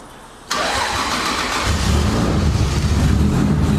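Car engine cranks and catches after a brief quiet start, then settles into a steady, loud idle with a slight rev, close by and alone with no talk; a drift car setup.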